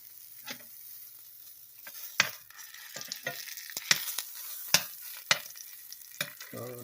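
Sausage fries in added oil in a pan for red beans and rice, a quiet background sizzle interrupted by sharp, irregular clinks and scrapes of a utensil.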